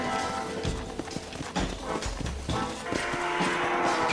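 Horse hooves clip-clop in the video game Red Dead Redemption, steady rapid beats under a dense mix of music and game sound, with no clear voices.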